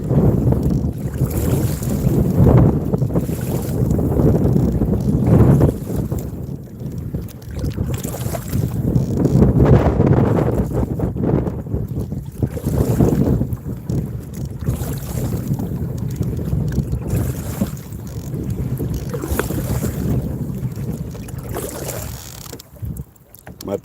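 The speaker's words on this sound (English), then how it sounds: "this wind's pushing me too far" Strong wind roars over a small fishing boat or kayak out on a lake, buffeting the microphone in loud, continuous gusts that swell and ease, with no talking.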